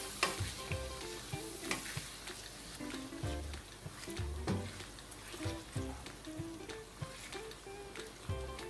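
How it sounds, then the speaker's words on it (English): Sausage cooking in a skillet, a soft ongoing sizzle and crackle punctuated by intermittent knocks and scrapes of a utensil moving the pieces around, fairly quiet throughout with no talking. "I'm going to start by adding my sausage, and I'm going to allow it to cook for about 4 to 5 minutes"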